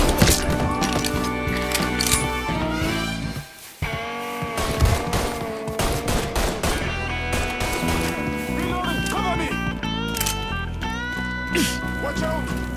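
Gunfire erupts in the video game Mafia III amid a chaotic firefight, with bursts and shots mixed under music and shouted voices throughout, loud and dense with a brief drop near the middle.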